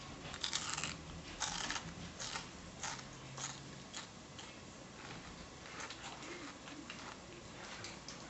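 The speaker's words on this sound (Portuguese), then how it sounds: "Vamos ver a crocância para ver se realmente ficou bem crocante." Crisp crunching bites into crispy fried lambari fish, a few sharp crackly bursts near the mouth followed by softer chewing, quiet and close with no talk.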